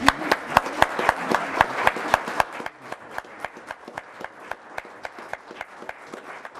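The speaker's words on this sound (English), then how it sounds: "Let's give them another round of applause." A room applauds a state volleyball championship team at a county commissioners' public meeting, a steady run of sharp, fairly close claps that thins out after the first couple of seconds and continues sparsely.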